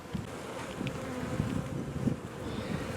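Honey bees buzz steadily at an open hive being inspected, a dense low droning hum that stays constant throughout with a few louder passes from individual bees near the microphone, and a little wind noise.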